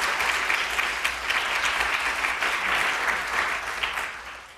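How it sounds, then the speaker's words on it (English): Audience applause for a health services workshop team, a full, continuous clapping from a roomful of people that holds steady and loud before easing off at the close. "I wanted to give a round of applause to the team, as well as to the leadership advisory and the sponsors"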